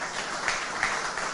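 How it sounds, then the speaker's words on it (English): An audience at an industry panel discussion on technology and the future of work gives a brief burst of applause, a steady wash of clapping heard alone. "A huge round of applause for our panelists for their time"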